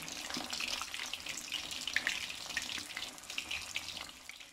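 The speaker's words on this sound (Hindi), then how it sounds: "अभी पानी इसमें है, शाँ शाँ की आपको आवाज़ आ रही होगी" Rahu fish frying in oil in a home kitchen, desi style, with water still in the pan giving a steady hissing, crackling sizzle punctuated by small pops, moderately quiet and continuous.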